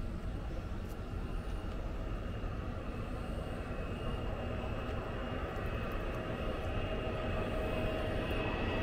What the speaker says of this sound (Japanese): 今度はジェット機ですよ。